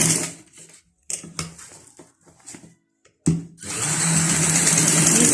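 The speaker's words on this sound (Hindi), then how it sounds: "यहाँ से अब हम डबल सिलाई लगाएंगे।" A sewing machine double-stitching elastic into a trouser waistband runs in short stop-start bursts with silent gaps, then settles into a longer continuous whirring run at close range.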